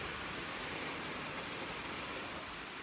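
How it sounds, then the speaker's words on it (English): Rain pours steadily outside an open door in San Diego, a dense, even hiss of falling water that stays constant and fairly close, with no voices heard. "It's raining."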